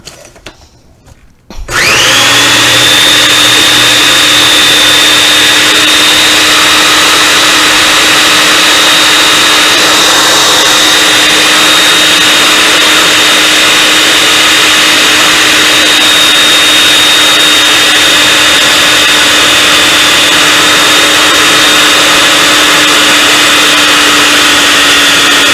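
Food processor grinding a cheesecake crust mixture, kicking in after a brief quiet moment and then running as a loud, steady, unbroken whir for over twenty seconds.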